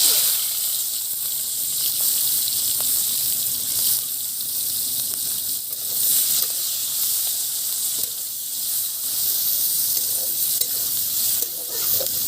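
Onions fry in hot oil in a kadai for chilli chicken, giving a loud, steady sizzle and hiss with wet stirring scrapes throughout, close up and without talk.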